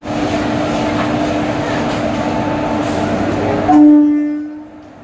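A passenger train on a journey to Puri rumbles along with a steady, loud roar. Near the end a sustained tonal note rings out, and then the noise fades away.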